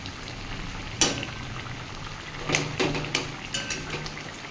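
Bata fish simmering in a pot of green mango sour curry, a soft bubbling bed broken by sharp clinks and scrapes of a utensil against the pot, several close knocks near the middle.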